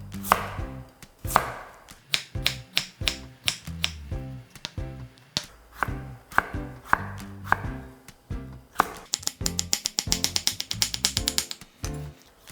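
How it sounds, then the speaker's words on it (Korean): Radish cut into thick julienne strips with a knife on a cutting board, steady rapid chops knocking close and crisp, speeding into a fast flurry near the end. "무는 채 썰어 줄 건데요."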